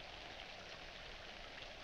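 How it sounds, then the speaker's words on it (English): Steady rain falls in a 1940s mansion setting, a constant even hiss with no breaks, quiet and continuous throughout with no voices. "In this rain?"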